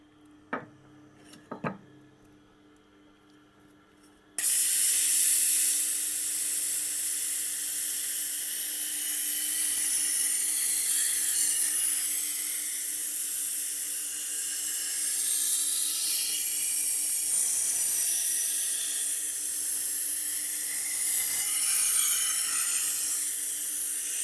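Shun double-curved boning knife ground on a Tormek wheel, a few light knocks and taps, then a sudden loud, even hiss of steel on stone that carries on steadily to the end.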